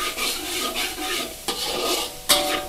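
Garlic fries in lard in a pan with a close, steady sizzle, cut by a few scraping stirs and a sharp clink of utensil against the pan near the end.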